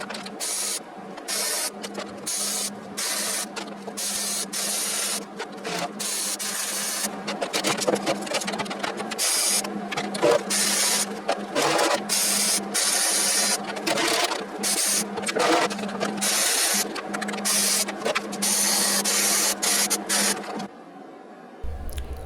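Welding a wear plate inside a John Deere mower deck, a crackling, sputtering arc buzz in short spaced bursts with brief pauses between runs, close and loud, no talk.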